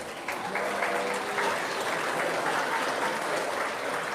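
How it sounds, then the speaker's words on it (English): Banquet audience at a Chamber of Commerce awards dinner applauding, a dense, steady wash of many hands clapping for about four seconds, fairly loud and close, with no speech over it. "Can we give them a quick round of applause?"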